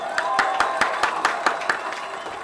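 A small audience claps in a quick, fairly even rhythm, each clap crisp and distinct, heard at moderate distance without voices over it.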